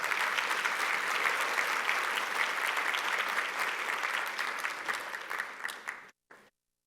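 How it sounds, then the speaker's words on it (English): Audience applause for teachers during a 2022 keynote talk, a sustained burst of clapping from a hall crowd that holds steady and then thins out into a few last claps before stopping. "let's give the teachers a round of applause"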